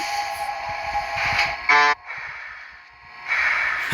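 A driverless train hums and whines as it pulls away, with a short horn-like tone partway through and the motor sound rising again near the end.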